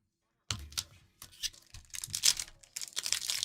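Trading card packs torn open by hand, a run of crinkly foil rips and crumples starting after a brief silence, close and fairly busy, with a faint steady hum beneath.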